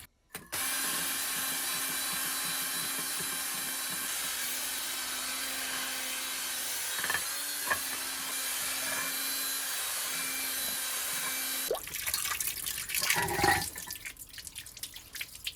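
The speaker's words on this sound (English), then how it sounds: "giving it a wire brushing with the electric wire brush" An electric wire brush scours rust off a cast iron Jotul skillet with a steady, loud, whirring grind that runs unbroken for about eleven seconds, then cuts off, followed by softer handling scrapes.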